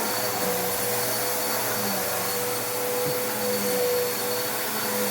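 A vacuum cleaner runs steadily while a cleaned, emptied room is vacuumed during a home cleaning and sanitizing service, a loud continuous whine with a constant motor tone throughout, no voices.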